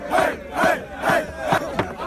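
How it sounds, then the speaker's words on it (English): A crowd of kids chants in unison, mocking with a tomahawk chop chant, four or five loud rhythmic shouted syllables repeating at an even pace. "this crowd of kids who then proceed to mock him and throw up the tomahawk chop"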